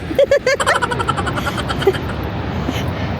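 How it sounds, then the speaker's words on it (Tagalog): Strong ocean waves break at Sandpatch Beach in a steady, loud broadband roar of surf. Voices talk briefly at the start before the surf carries on alone. "Napakalakas ng wave, no?"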